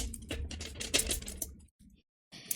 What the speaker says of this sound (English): Let me just do a quick riffle shuffle here.